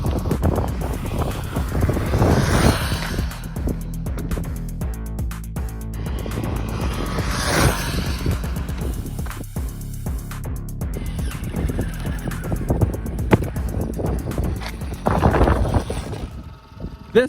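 Traxxas Rustler RC car on a 3S Velineon brushless motor and ESC doing a high-speed run, its whining motor and tires rising and fading as it passes, with a loud surge near the end.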